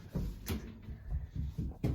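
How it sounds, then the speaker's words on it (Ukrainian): A small cabinet door in a hotel room is opened with several close, dull wooden thumps and knocks, the last one sharper, with light handling noise in between. "Тут у нас такий шкафчик, така дверка."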